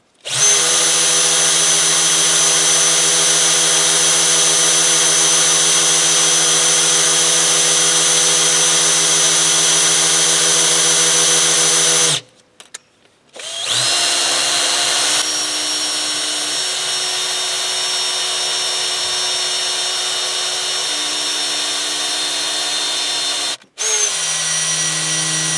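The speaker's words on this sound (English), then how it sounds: "Stinking drill." A power drill runs loud and steady for about twelve seconds, cuts out briefly, then spins up again and keeps whirring until near the end, used while working on a 1978 GMC Caballero.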